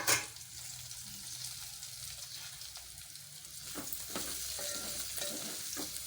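Cauliflower sizzling in a frying pan, stirred now and then with soft scraping strokes. The frying hiss is faint and steady, and the stirring grows busier toward the end.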